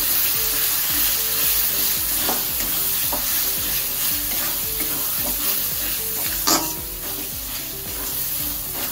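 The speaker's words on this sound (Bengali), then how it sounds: "সবকটা উপকরণের সঙ্গে মিশিয়ে আরও একবার ভালো করে কষিয়ে নেব।" Chicken curry with chilli powder and spices being stirred and fried in oil in a pan, a steady sizzle under repeated scraping strokes of a spoon, close and fairly loud.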